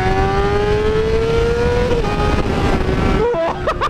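Honda CBR 600RR motorcycle exhaust revving with a sustained, loud, steady high-pitched engine whine that rises slightly, then dips and blips near the end, heard up close with no talking.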